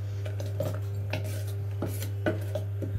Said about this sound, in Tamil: இப்போ நல்லா மிக்ஸ் பண்ணி விட்டுறோம்.